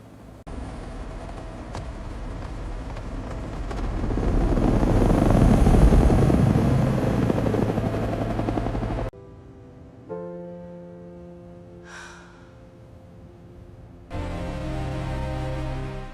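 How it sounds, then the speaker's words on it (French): A helicopter roars loudly for about nine seconds, its rotor drone swelling toward the middle, then cuts away to quieter engine hum and returns near the end; no speech. "À qui est cet hélicoptère?"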